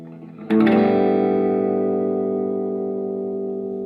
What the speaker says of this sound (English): Now I got the reverb at about 4.